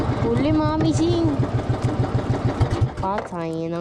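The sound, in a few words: fishing boat engine running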